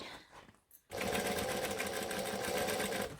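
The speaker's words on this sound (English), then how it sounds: "So I'm just going to come back and stitch it from the other side." A sewing machine stitches a Colette bowler bag, starting after a brief quiet pause and then running steadily and loudly at close range, a continuous mechanical whir with rapid needle rhythm until it slows near the end.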